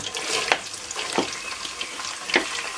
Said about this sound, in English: after the palm oil is heating, I'm going to put the onions to fry first.